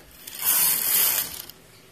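A knitting machine carriage slides across the needle bed while knitting burgundy and main-colour yarn, giving a single ratcheting, clattering pass of about a second, close and fairly loud, then fading to quiet.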